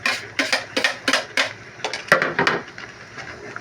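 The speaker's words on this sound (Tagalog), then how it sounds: "Kulong-kulo na yung sauce natin. Ilagay na natin lahat yung spaghetti natin." A pot of simmering spaghetti sauce takes in a batch of CDO spaghetti, with a run of irregular metallic clanks and clatters from a utensil against the pot, close and fairly loud.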